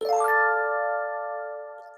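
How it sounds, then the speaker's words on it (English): A higher-pitched electric piano chord strummed upward, its notes rolling in quickly, then ringing as a clear sustained tone that slowly fades, with a brief click at the very end. "This is a higher pitched electric piano that's strumming up."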